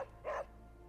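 A dog in the PS5 game Marvel's Midnight Suns gives one short, clear bark over a quiet, low game background.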